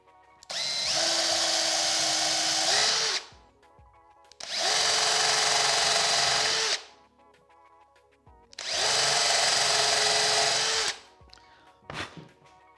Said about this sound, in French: Je retourne ma palette et je vais faire 3 trous à peu près de la taille de ma branche de bois flotté.